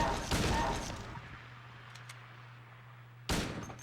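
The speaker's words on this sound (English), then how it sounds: "Is there anything stopping me from changing the gunshot noise?" Gunfire from the video game Silent Hill 2, a loud burst opening the clip and decaying into a low steady hum, then a second sharp shot near the end.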